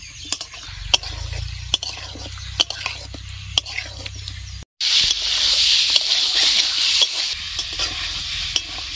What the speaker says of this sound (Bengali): দু 3 মিনিট মতো চিকেন আর আলু মশলার সঙ্গে ভালো করে কষিয়ে নিব।